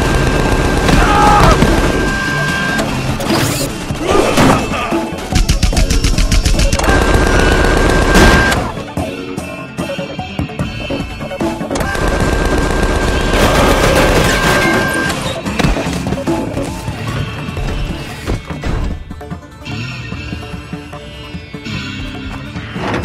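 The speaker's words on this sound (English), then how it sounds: "Please stop shooting me." Loud, sustained gunfire in Tales from the Borderlands: dense bursts and blasts mixed with crashes and game sound, long stretches of continuous shooting with brief lulls.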